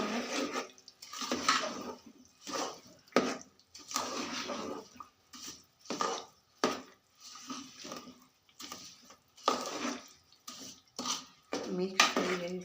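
Food being stirred continuously in a pan while cooking after sesame seeds are added, heard as repeated scraping and clattering strokes in an irregular rhythm, close and moderately loud, with pauses in between.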